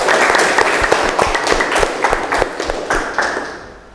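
A classroom of students claps together, a short burst of close, uneven handclaps with audible individual slaps that gradually fades out over about four seconds.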